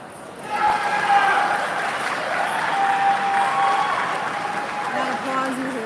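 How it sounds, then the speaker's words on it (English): Crowd applause at an indoor track meet rises at a distance behind nearby talk, a steady, moderate wash of clapping that carries on through most of the stretch. "That applause you hear behind us is at Hydro"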